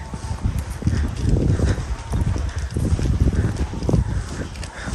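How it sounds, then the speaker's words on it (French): Horse hooves clip-clopping as the animal follows people on foot outdoors, a steady, fairly close series of irregular hoof thuds running throughout. "je me retrouve avec un cheval"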